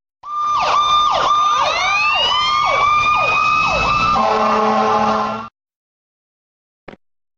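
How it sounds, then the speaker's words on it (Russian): Fire engine siren wailing loudly and close, a rapid rising-and-falling yelp repeated about seven times, then shifting into a steadier two-tone blare before stopping abruptly, followed by a brief click. "Пожарная машина."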